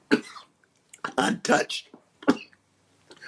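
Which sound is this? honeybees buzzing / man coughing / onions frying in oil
man coughing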